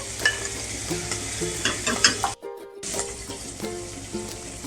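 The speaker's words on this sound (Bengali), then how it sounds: "এই যে বাটা লঙ্কাটা একটু রয়ে গেছে সেটা আমি দিয়ে দিচ্ছি। এটা একটু ভেজে নেব" Leftover ground chili paste fries in a pan for mustard hilsa, a close, steady sizzle with scraping stirs. The hiss briefly drops out, then resumes just as loud.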